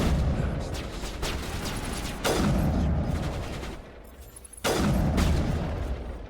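Sniper rifle shots in the sci-fi shooter Mass Effect: two sharp, loud reports spaced a couple of seconds apart, each with a rolling tail, set against a continuous bed of gunfire and battle noise.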